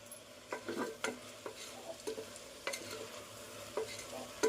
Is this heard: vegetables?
yes